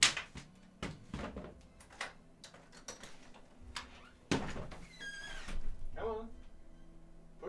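A cat door flap swings open and shut with a series of hollow plastic clacks and thunks, some sharp and close, with a brief cat cry and people talking in between.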